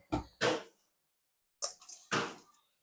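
Soaked lentils sloshed in a bowl of clean water for washing, two separate bursts of splashing and squishing with a quiet pause between.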